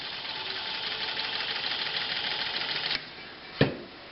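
A New Home Model 270 sewing machine running before being oiled, a steady buzzing whir held for about three seconds and then cut off, followed by a single sharp clunk.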